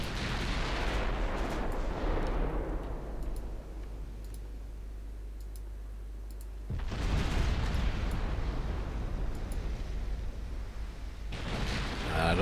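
Battleship main guns firing high-explosive shells in the naval strategy game Ultimate Admiral Dreadnoughts, heavy booming salvos with rumbling decays, one near the start and another louder blast about two-thirds through, followed by a further shot.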